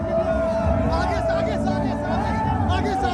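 Dense crowd of supporters thronging around someone outdoors, a steady murmur of many voices with shouts rising at moments, close and continuous, with someone talking over it.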